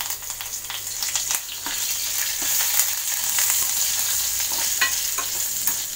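A handful of curry leaves fry in hot oil for a peanut chutney, giving a loud, steady crackling sizzle with sharp pops scattered throughout, close and unbroken by speech.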